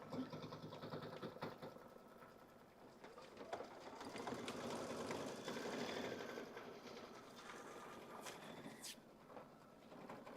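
An embroidery machine stitches a small bird design, its steady needle chatter running faint and continuous throughout with a few brief higher clicks near the end.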